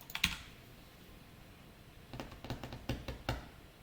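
Java code being typed on a computer keyboard: a couple of sharp key taps, a pause, then a short run of close clicking keystrokes, quiet and alone.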